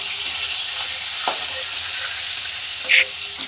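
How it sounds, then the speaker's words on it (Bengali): Shrimp frying in hot oil, a loud continuous sizzle and crackle with occasional spatula scrapes and a brief bright pop near the end, no speech. "চিংড়ি মাছগুলোকে ভেজে নিচ্ছি।"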